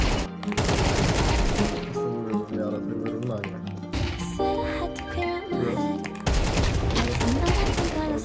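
Rapid bursts of video game gunfire crackle in and out, automatic fire starting and stopping several times, mixed with game sounds while players talk over it.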